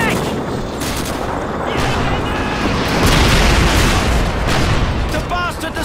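Dense battlefield gunfire and booming explosions in the Call of Duty 2 video game, rapid shots and heavy blasts layered loudly with shouted voices.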